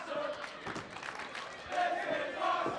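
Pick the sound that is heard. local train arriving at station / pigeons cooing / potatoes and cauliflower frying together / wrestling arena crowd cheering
wrestling arena crowd cheering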